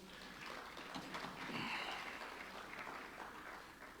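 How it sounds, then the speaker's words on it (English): Audience applause at a competitiveness summit, a steady, dense wash of clapping that holds evenly for several seconds with no voices over it. "Let's give her a big round of applause."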